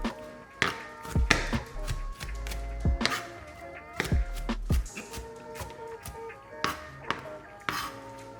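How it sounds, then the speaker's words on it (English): A knife chops green peppers on a cutting board for a chicken and shrimp stir fry, giving irregular close thunks and taps, some heavier strikes, with faint kitchen clatter between them. "Chop up your green peppers"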